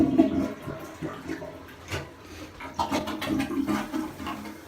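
A household toilet flushing close by in a bathroom, a loud rushing swirl of water that surges, eases, then swells again as the bowl refills.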